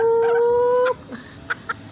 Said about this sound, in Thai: โดนเปียเนี่ยดุมาก จิกอยู่เรื่อยเลยโดนจิกหลายรอบแล้ว